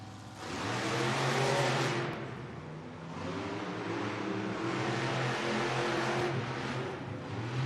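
Two Monster Jam trucks, Gravedigger and Wildside, race in an arena, their engines roaring loudly and swelling in waves as they accelerate, with a dense, distant crowd-and-motor wash beneath.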